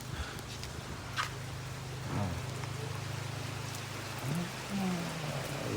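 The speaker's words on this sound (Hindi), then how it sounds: "बरसात" Heavy rain pouring in Jamshoro, a constant broad wash of falling water with a low steady hum underneath and a few faint voices breaking in briefly.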